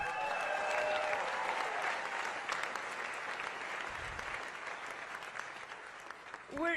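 An audience at a town hall applauds to welcome Senator Cory Booker, with dense, sustained clapping that gradually thins out, and voices are faintly audible near the end.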